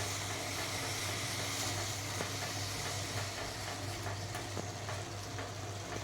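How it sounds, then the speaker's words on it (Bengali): Potatoes frying for aloo dum give a steady, dense sizzle with a few faint clicks, continuous and fairly close throughout with no voices. "আলুগুলোকে লাল লাল করে ভেজে তারপর পেস্টটা দেবো এদিকে আলুর দম কষানো হচ্ছে"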